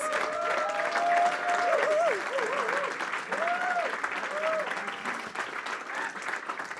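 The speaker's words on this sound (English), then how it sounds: "let's give one last loud applause for all the films" An audience applauds the films at a Sundance Q&A screening; steady clapping fills the room while a voice talks over it, continuing for several seconds at moderate distance.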